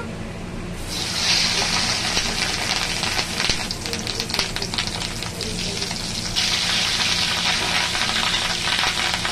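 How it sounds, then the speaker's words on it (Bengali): Salted, turmeric-rubbed boiled fish roe dropped into hot oil, a loud crackling sizzle bursting in at once and hissing steadily, with occasional clinks and stirring, fading then rising again toward the end. "তেল গরম হয়ে গেছে, এবার মাছের ডিমটা দিয়ে দেবো"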